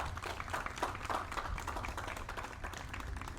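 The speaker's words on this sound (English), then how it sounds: "Nice round of applause for everybody on that." Crowd applause at an outdoor veterans banner ceremony in a Mashpee park, steady and dense clapping that holds for several seconds without fading.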